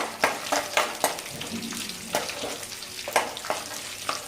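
Peanuts and green chillies frying in oil in a village kitchen, a steady sizzle broken by repeated sharp crackles and stirring scrapes, close and loud with no talking.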